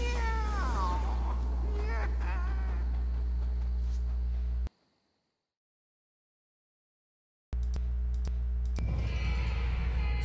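A nekomata cat spirit in the action game Nioh 2 lets out several wavering, drawn-out meows up close, then everything cuts to silence before other game sounds return.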